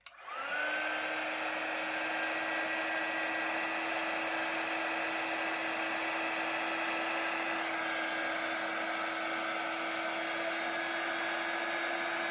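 A heat tool blows steadily while melting clear embossing powder, a continuous whooshing hum with a high whine that starts abruptly and holds evenly, near and alone without talk.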